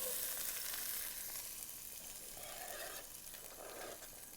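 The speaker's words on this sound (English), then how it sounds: "we're going to start sauteing the peppers, onion, and garlic together" Peppers, onion and garlic saute in olive oil in a skillet for a casserole, a soft, steady sizzle heard quietly and alone.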